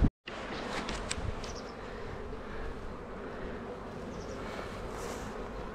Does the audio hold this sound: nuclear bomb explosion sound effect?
no